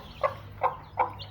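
A brooding hen with her newly hatched chicks gives three short clucks, evenly spaced and close by, over a quiet low hum.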